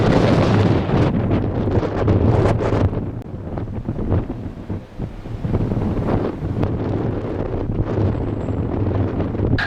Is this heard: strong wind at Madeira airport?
yes